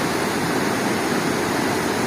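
A mountain stream rushes in Çamlıhemşin in Turkey's Black Sea region, a dense, steady roar of churning water close by and constant for the whole moment, with no voices.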